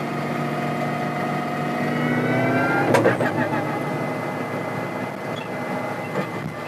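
Car under hard acceleration with gears changing without a clutch and without lifting off the throttle, a loud continuous engine note rising in pitch with a brief break near the middle.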